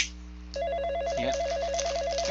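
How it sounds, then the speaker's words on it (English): A telephone rings in the video game The Coffin of Andy and Leyley, a loud, steady electronic trilling ring that repeats over a faint background drone, with no one talking. "You're too tired to get the phone."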